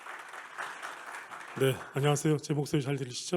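Audience applause at a conference welcoming a keynote speaker on NFTs: a dense patter of clapping fades over the first second and a half before a voice takes over with a greeting into a microphone.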